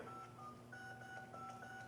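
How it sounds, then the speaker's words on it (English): Multi-frequency telephone signalling tones sound as a quiet run of steady paired beeps. The pitch shifts from one tone to the next over a low background hum. "So when you dial a telephone, you hear multi-frequency"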